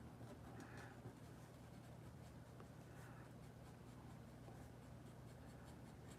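A pen scratches quietly and continuously across paper, soft and close, with only a faint background hum.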